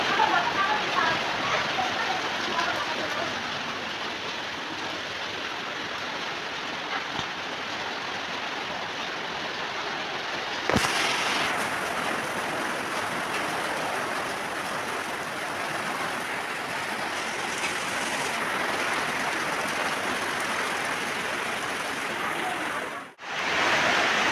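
Rain falls in a steady, broad hiss that fills the whole stretch, moderately loud and close, briefly cut by a knock near the middle and a short dropout near the end.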